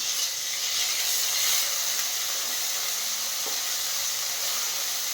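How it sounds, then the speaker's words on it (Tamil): Onions and tomatoes sautéing in a pan for a chutney, giving a steady broad hiss of steam and sizzle that stays even throughout, with no talking. "மாறினதுக்கப்புறம் நம்ம எடுத்து வச்சுருந்தா தக்காளி பழத்தையும் சேர்த்து வதக்கிடலாம்"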